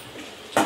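Metal spoon scraping and knocking once in a pot of tomato, ginger-garlic and turmeric curry, a single short clatter after quiet kitchen background.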